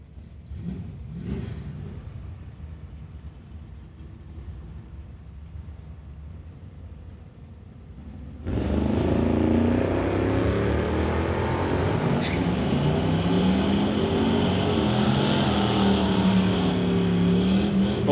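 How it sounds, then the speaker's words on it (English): A 1989 S10 and a 1966 Ford Mustang at an NHRA Summit ET Series drag race idle and rumble at a distance, then both engines roar to full throttle in a sustained, loud launch and run. "Steve Sikora will take his 1989 S10 to race Sylvia Hoekston's in the 1966 Ford Mustang"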